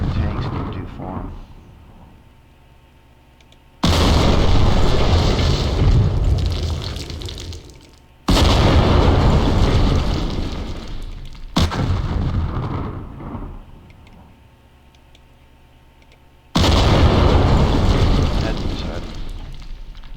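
An assault gun firing in the war game John Tiller's Campaign Series, four heavy booming blasts spaced several seconds apart, each decaying into a long rumbling tail, loud and alone.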